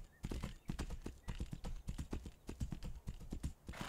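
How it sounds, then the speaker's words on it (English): A horse galloping in a first-person video game, a fast, steady rhythm of hoofbeats that continues throughout, fairly quiet and close with no talk. "I can sprint on the horse."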